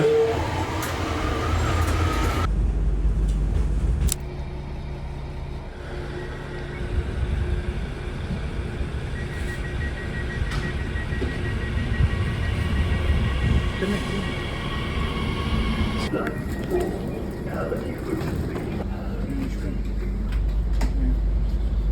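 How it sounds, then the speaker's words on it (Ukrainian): A steady rumble of a moving train in Germany fills the interior, low and continuous, with occasional rattles and a faint high whine running through it. "Ми вже сіли в потяг."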